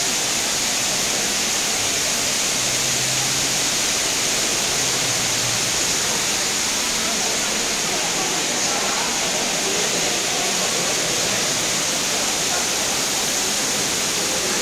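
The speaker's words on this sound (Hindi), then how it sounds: "बहुत प्यारा झरना है ये।" A steady broadband roar of falling water from the indoor waterfall at Dubai Mall fills the whole stretch, constant and close with no pauses, over faint crowd murmur.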